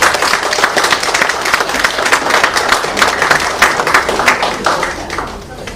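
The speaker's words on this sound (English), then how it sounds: "You have a round of applause for it." An audience at a Singapore study-abroad seminar gives a round of applause, dense steady clapping from many hands filling the room at close range, with a voice speaking over it.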